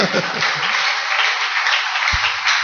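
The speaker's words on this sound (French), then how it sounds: "Applaudissons fort." Congregation applauding loudly during a French-language church sermon, dense sustained clapping that fills the whole clip, with a couple of low thumps near the end.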